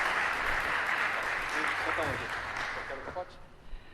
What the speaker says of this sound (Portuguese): Uma salva de palmas para o Daniel, sempre presente.